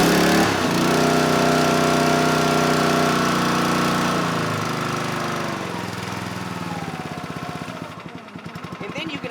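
A log splitter's small gas engine runs loudly and steadily, then its note drops and turns into a rougher, pulsing idle toward the end.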